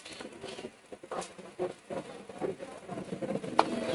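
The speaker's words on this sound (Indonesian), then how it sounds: "jadi ini cuacanya memang lagi hujan nih, pas ya Mas Rian ya." Rain patters steadily during wet weather at a roadside stall serving teh susu telur and hot drinks, a soft irregular pattering with scattered small taps and no voices.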